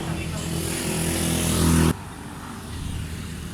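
Motorcycles of a riding group near a beach in Agno, Pangasinan, a steady engine drone that swells then cuts off abruptly, leaving quieter background noise.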